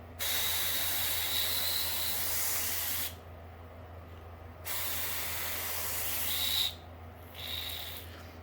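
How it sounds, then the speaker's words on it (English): A hand sprayer misting water onto tomato seeds, delivered in long hissing bursts with short pauses between them, close and steady. "I have a sprayer here that we're going to use to start our seeds"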